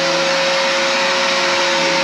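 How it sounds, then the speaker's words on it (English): A Craftsman 5-gallon, 4-horsepower wet/dry shop vac runs at a steady, loud whine with a constant hum, nearby and unbroken with no voices, inside a cabin. "So I got me a Craftsman 5-gallon 4-horse wet dry vac."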